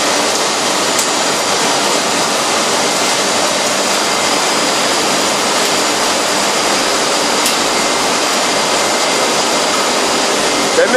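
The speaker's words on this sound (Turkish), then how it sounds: "Buradan da zeytinlerimiz akıyor." Olives pouring through a hopper in an olive oil factory give a dense, steady rushing roar, like running water, that stays loud and even from start to finish.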